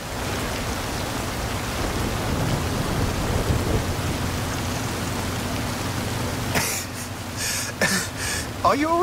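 Heavy rain pours with low rumbling thunder in the Forza Horizon 5 video game, a steady loud wash of downpour that drops away near the end, where brief voices come in.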